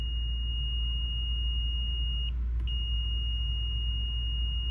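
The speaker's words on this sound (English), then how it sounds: "So if I touch the leads together, it should get a beep." A multimeter continuity tester sounds a steady high-pitched electronic beep continuously, briefly breaking off once before resuming, over a low background rumble.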